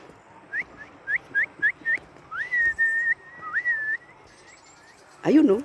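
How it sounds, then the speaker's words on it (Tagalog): A bird calls in a run of short, rising chirps, then holds longer whistled notes, clear and fairly close over a quiet background near a hanging bridge in Atok, Benguet, Philippines, ending in a brief burst. "Ayun oh, may nagsasalitang ibon."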